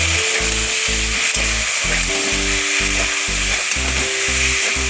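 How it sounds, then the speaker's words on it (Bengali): Ground mustard spice paste sizzles loudly as it is stirred in a frying pan with beans and potatoes, with a steady hiss and repeated rhythmic low scraping strokes of the spatula throughout. "মশলা দিয়ে ভালোভাবে নাড়চড় করে নিচ্ছি"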